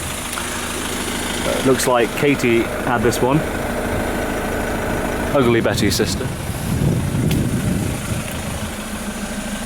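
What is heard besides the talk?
Fiat ambulance response car engine idling smoothly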